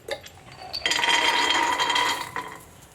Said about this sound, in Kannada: ನಾನು ಇಷ್ಟು ಬಾದಾಮಿನ ಹಾಕ್ಕೊಳ್ತಾ ಇದ್ದೀನಿ.